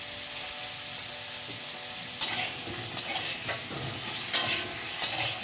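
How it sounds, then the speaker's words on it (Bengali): Potatoes fry in hot oil in a pan with a steady, loud hiss, while a spatula stirs and scrapes them in several distinct knocks and scrapes. "তেল গরম হয়ে গেছে, এখন আমি আলুগুলো ছেড়ে দিচ্ছি"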